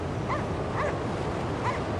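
A dog in the video game Cryostasis gives three short yelping barks spaced evenly apart, heard over a low game ambience.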